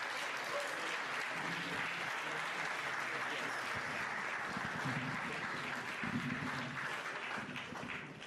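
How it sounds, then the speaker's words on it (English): Steady, sustained applause from an audience at a Sierra Leone tourism investment expo in the UK, dense and continuous throughout without a break. "I want you to clap till you feel your hands sting with pain."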